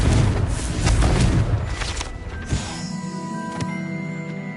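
A Confringo spell blast in Hogwarts Legacy bursts as a loud rumbling boom that rolls for a couple of seconds, then decays into a ringing tonal tail with a sharp crack near the end.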